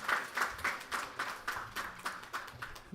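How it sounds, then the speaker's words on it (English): Applause from a small audience at a university welcome ceremony for new undergraduate and postgraduate students, with rhythmic, fairly sparse hand claps that stay moderately loud and steady. "Let's give them all a round of applause for being here and having selected us."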